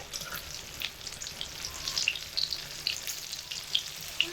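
Fritters of Maggi noodles, egg, potato and tomato fry in oil over low to medium heat, giving a soft, steady sizzle dotted with fine crackles and pops, close by, with no talking.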